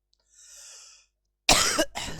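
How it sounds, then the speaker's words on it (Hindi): A person with an illness gives a single harsh cough up close, preceded by a soft breath, the burst sharp and brief with a short second pulse before silence. "तबियत थोड़ी ठीक नहीं है, खांसी भी झेलो"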